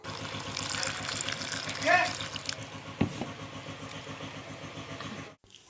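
Water pours into a pot of ridge gourd being set up to boil, a continuous splashing rush that swells briefly midway and stops abruptly near the end.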